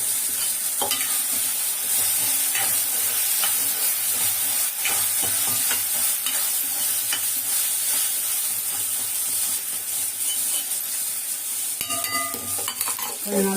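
Cooked liver is stirred and fried in a Chettinad-style masala of ground cumin and fennel, giving a continuous close sizzle and hiss with scraping spoon strokes against the pan.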